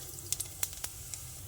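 Cumin seeds drop into hot oil for tempering, giving a few quick crackling pops and short sizzling bursts over a faint background hiss, close and fairly quiet.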